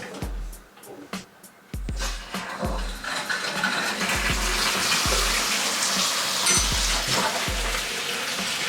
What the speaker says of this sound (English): now just connecting up the hose pipe and let's drain the system down.